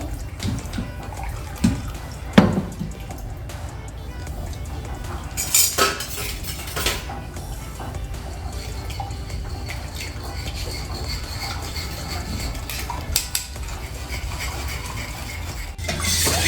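Blended tomato soup being strained through a sieve, soft liquid stirring and scraping with occasional clinks of a spoon against metal, close and steady, no talk.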